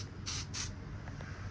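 Aerosol smoke detector tester is sprayed in two short hissing bursts close to the microphone, followed by fainter residual hiss in a quiet room.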